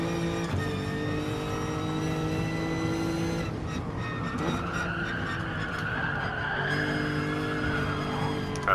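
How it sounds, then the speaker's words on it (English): A race car in Gran Turismo Sport runs at steady engine pitch, then tires squeal in a long skid as it understeers, before the engine note resumes, loud and continuous with no voice over it. "Had a bit of understeer there, tapped the brakes, and then got back in line."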